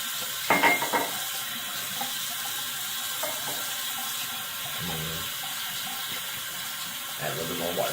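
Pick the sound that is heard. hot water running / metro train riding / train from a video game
hot water running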